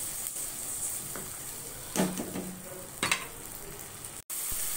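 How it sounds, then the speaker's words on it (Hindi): Tomato and green chilli paste fries in a pan for a creamy mustard handi gravy, a steady soft sizzle with a few louder stirring scrapes partway through, ending in a brief dropout before the frying resumes. "हम इसे भून लेंगे बिल्कुल, टमाटर जो पेस्ट है ये भी बिल्कुल ड्राई हो जाएगा।"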